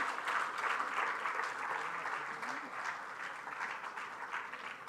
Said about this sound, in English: can we have a round of applause for Mr. Kuldeep Jain?